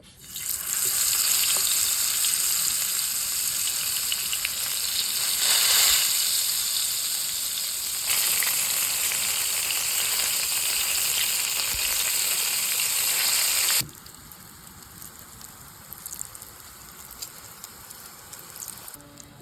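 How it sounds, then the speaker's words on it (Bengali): A whole eggplant frying in hot oil gives a loud, continuous sizzle that crackles steadily, then drops abruptly to a softer, quieter bubbling hiss for the final stretch, with no voices. "এখন গরম তেলের উপরে আস্ত বেগুনটা ছেড়ে দেব"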